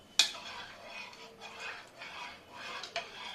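A spoon stirs a tender coconut chia seed drink in a glass, giving a sharp clink at the start, then soft swirling scrapes and light taps, with another clink near the end.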